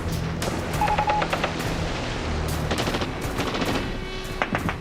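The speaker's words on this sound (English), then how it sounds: "Exposed to enemy fire, hundreds of Marines are cut down by machine guns." Machine gun fire in a war documentary's battle scene, with dense bursts of automatic gunfire and heavier booms, loud and continuous throughout.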